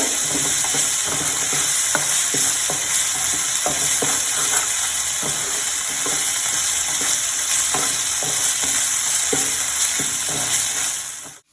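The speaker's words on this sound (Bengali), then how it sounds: "এবার আদা বাটা দিয়ে দেব, রসুন বাটা দিলাম। খুব ভালো মতো নাড়াচাড়া করতে হবে।" Ginger and garlic paste being stirred into a simmering prawn malai curry, with a steady sizzle throughout and frequent scraping, clattering spoon strokes close by, no voices.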